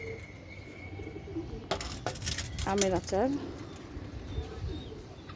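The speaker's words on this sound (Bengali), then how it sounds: "এই যে মাশাআল্লাহ কবুতর আবার একজোড়া বাচ্চা হয়েছে" Pigeons at a home nest where a pair of chicks has hatched, giving a few short cooing and chirping calls in the middle under nearby household sounds, while someone speaks briefly.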